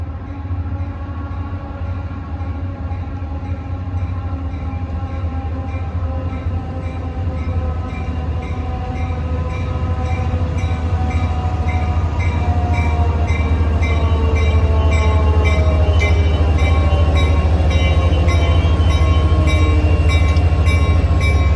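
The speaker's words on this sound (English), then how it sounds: "He's got his dynamic brakes working." NJ Transit train 1165, pulled by EMD diesels including GP40FH-2 4904, rolls past under dynamic braking with a loud, steady low roar, rising whine of the braking fans, and wheel and rail noise that builds as it nears.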